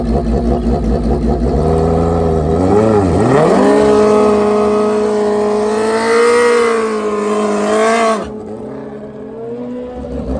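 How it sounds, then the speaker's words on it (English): A high-revving motorcycle engine, a stretched all-motor GSX-R 1000 or nitrous Hayabusa drag bike, launches hard down a street-bike drag strip, the loud engine note climbing through gear changes before cutting off abruptly near the end. "Nice hole shot, Richard Gadson."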